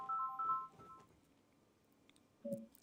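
A telephone call connecting on a live radio show: a pair of short electronic dialing tones, a quiet pause, then another brief tone blip, faint and clean with no voices.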